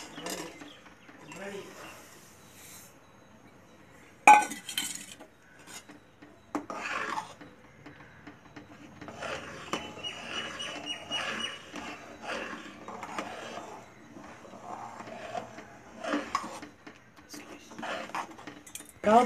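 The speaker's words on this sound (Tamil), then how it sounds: "ரவை போட்டு கலரி எடுக்கணும்" Scraping and rasping of a spoon stirring grainy semolina into boiling water in a metal pot for rava pongal, uneven strokes with occasional clinks, a voice talking faintly at times.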